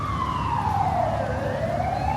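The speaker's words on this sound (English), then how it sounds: "So it's an ambulance or something." An ambulance siren on a street in central Kyiv wails in a slow falling tone at moderate distance, over steady traffic rumble.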